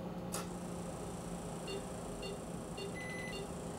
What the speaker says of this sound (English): as you hear the beep, that's letting us know that we're reaching our target temperature